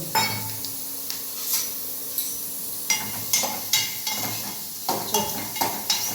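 Vegetables are tempered in a hot pan with a soft sizzle, a spoon scraping and clinking against the metal in a fairly regular rhythm.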